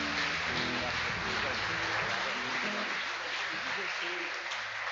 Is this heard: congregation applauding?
yes